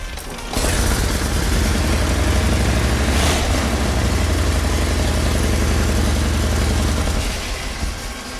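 A 1914 Excelsior motorcycle, a 106-year-old pedal-start machine, runs loudly and steadily with a throbbing low engine note for about seven seconds before it cuts off.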